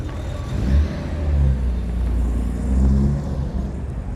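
A Holden car engine idles and rumbles at close range, a steady low throb that swells briefly in two places, with no talk over it.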